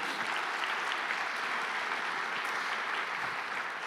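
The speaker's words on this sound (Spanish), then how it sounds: "Dele fuerte ese aplauso al Señor." A church congregation gives a loud, steady round of applause at a Sunday service, dense clapping sustained for several seconds with no pause.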